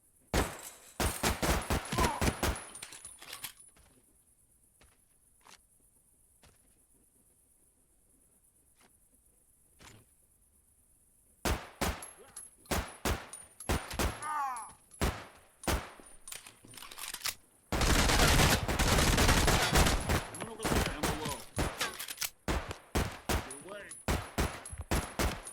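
Video game gunfire from Project Silverfish comes in loud sharp bursts at the start, then scattered single shots through a quieter stretch, and dense rapid volleys near the end, with a steady high tone running underneath.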